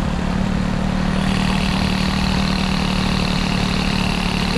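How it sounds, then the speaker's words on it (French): Peugeot 103 moped engine with an air-cooled Airsal 65 kit and a 15 PHBG carburetor, idling steadily up close with a loud, continuous buzzing drone and no talk. "Le ralenti est bien stable."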